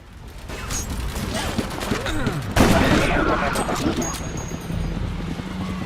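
Dense gunfire from a first-person shooter game, Battle Los Angeles: rapid, overlapping shots and bursts that fill the whole stretch at a steady, loud level, with a sharper burst near the middle.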